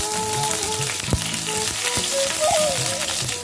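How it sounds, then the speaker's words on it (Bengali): Black cumin seeds and slit green chillies frying in hot oil, a loud close continuous sizzle with brief crackling bursts as the pieces hit the pan. "তেল খুব ভালো করে গরম হয়ে গেছে। এর মধ্যে 1/2 টিস্পুন কালো জিরে দিয়ে দেব।"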